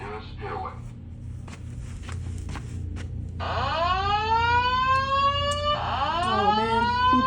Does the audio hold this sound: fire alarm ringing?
yes